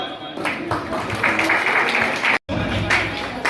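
An audience claps steadily at a felicitation meeting for students, the applause running under someone speaking over a microphone.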